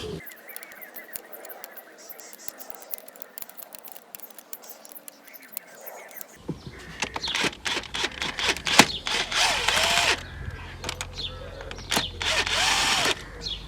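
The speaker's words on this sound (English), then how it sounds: "he's using a gun to take out the head bolts" An impact gun removing cylinder head bolts from a Mk6 Golf GTI 2.0 TSI, starting with quieter tool noise and then loud, close bursts of rattling hammering, with voices in the background.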